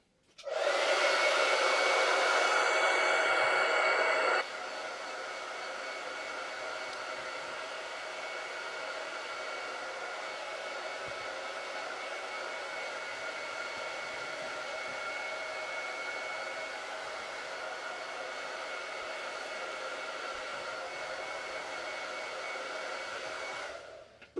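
Hair dryer drying a chalk-paste silkscreen gnome door tag craft, blowing loud and steady for about four seconds, then continuing at a slightly lower, even whir for the rest, with no talking.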